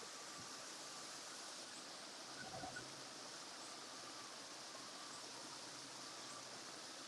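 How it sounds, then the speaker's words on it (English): Flowing water at Animal Kingdom theme park, a faint, steady rushing wash like a small stream or waterfall, continuous and distant with no talking. "The sound of rustling water is very relaxing."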